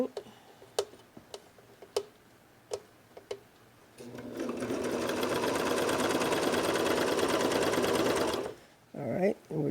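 A Brother 2340 coverstitch machine runs steadily for about four seconds while stitching thin fabric, its loud even whirring preceded by scattered separate clicks and ending in a few short bursts.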